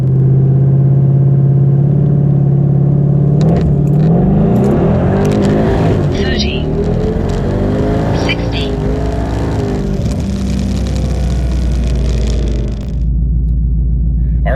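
A Hellion twin-turbo Mustang accelerating hard from a stop on the street, a loud rising engine roar heard from inside the car with turbo whine building through each gear before easing off.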